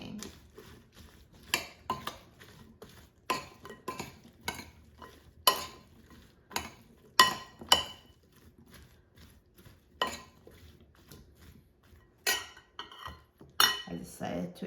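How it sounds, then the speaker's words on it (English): Okra and potatoes tossed with oil and chili powder in a bowl, a spoon clinking and scraping against the dish in irregular bursts, close and fairly quiet. "And now mix it so it's coated evenly with oil and seasoning."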